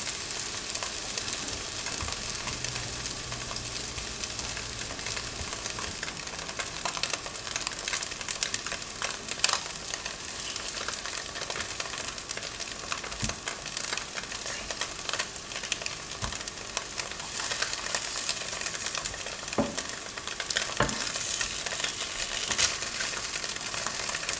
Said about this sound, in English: We're going to cook them in 2 batches and just let them brown on both sides.